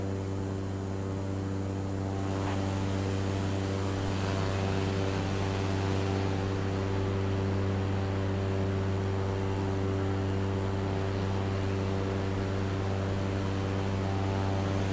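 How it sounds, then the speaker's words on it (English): An aircraft drones steadily over the UK coast, a constant loud engine hum with a strong low tone that holds unchanged through the whole stretch. "Have a plane somewhere near us."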